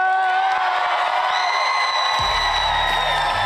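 A large crowd cheers, whoops and yells loudly for Kamala Harris after her introduction, a dense sustained roar with shouts rising over it and a deeper swell entering toward the end.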